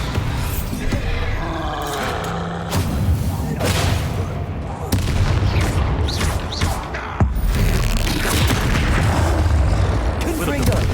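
In the Hogwarts Legacy video game, Confringo and Bombarda spell blasts hit a troll as loud, booming explosions over a dense roar of combat noise, with a player shouting spell names throughout.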